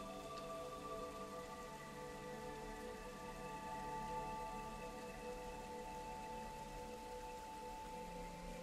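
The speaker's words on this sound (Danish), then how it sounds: "og du kan høre regnen på taget." Rain falls on a roof in a steady, even patter that continues without a break, with soft sustained musical tones beneath it.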